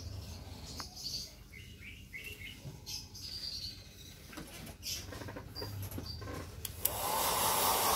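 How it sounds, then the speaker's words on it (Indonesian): Hair dryer blows steadily at close range while drying a long-haired guinea pig, a continuous airy rush that jumps louder near the end as the nozzle comes closer. "Kemudian keringkan ginepik dengan hair dryer sambil sesekali menyisir bulunya"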